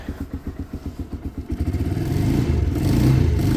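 A motorcycle engine idles while warming up, its close, steady low putter first pulsing in even beats and then smoothing into a fuller, slightly louder drone.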